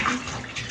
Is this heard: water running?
yes